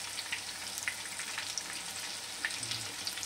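Chicken lollipops fry in hot oil with a steady, soft crackling sizzle and scattered small pops. It is fairly quiet and continuous, with no voices.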